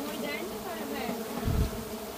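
Honeybees swarm around a comb being cut for honey on a building, a dense, loud, close buzz that holds steady throughout, with a brief low thump near the end.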